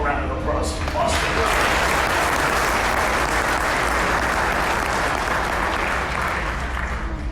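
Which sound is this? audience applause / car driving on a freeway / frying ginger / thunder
audience applause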